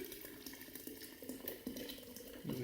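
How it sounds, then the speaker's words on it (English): Boiled water pours slowly and steadily into a jar, a soft continuous trickle and splash with no talking, sounding close and fairly quiet. "So very slowly, I'm going to pour my water in."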